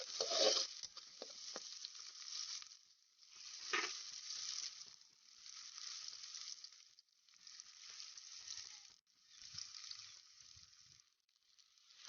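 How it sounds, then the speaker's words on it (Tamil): Green chilies frying in oil until golden in a pan for road-side style egg fried rice, a soft, steady sizzle that swells and fades as they are stirred, faint and close with no voices. "பச்சை மிளகா சேர்த்துக்கலாம் நல்லா பொன்னிறமாக வேகட்டும்"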